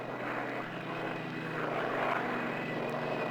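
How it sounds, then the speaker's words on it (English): A propeller aircraft landing on a carrier at night, heard as a steady, droning engine roar with a constant tonal hum, fairly close and without speech. "In landing all prop aircraft, the pilot's lack of depth perception at night presents a problem of when to flare the aircraft after the cut"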